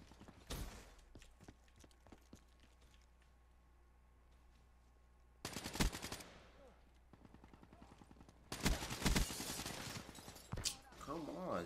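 Bursts of automatic gunfire in Black Ops 3 with the KN44 rifle, an early cluster of shots, a quieter gap, then two longer dense bursts close up, with faint talking underneath.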